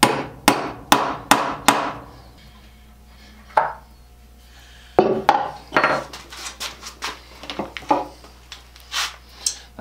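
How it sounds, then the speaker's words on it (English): A hammer taps a prick punch into wood to start a hole, a run of sharp, close metallic strikes in quick succession, then a pause, and then a few more scattered taps. "using this prick punch"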